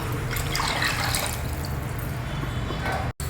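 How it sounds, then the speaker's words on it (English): Three cups of water pour into one cup of washed raw rice inside a pressure cooker, a steady close trickle and splash running evenly before stopping abruptly. "1 cup of rice, I am adding 3 cups of water."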